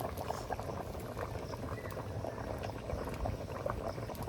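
A thin fish curry with water, taro and potato simmers in a pot, giving a continuous close bubbling and sizzling that stays steady throughout, with no talk.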